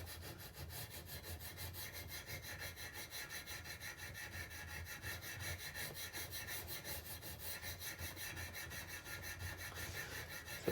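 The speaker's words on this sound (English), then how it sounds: "So the technique's called draw filing, and it's great for fixing small marks, damages, and to restore a surface" A hand file is drawn across a metal locomotive part to take off burrs, giving a quiet, even rasping in steady back-and-forth strokes with no one talking.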